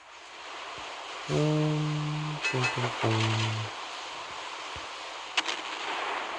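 Naval guns boom in the warship game Naval Creed, with a heavy salvo of shells firing followed by a second burst, loud against a hissing sea-and-engine background, plus a faint later thud.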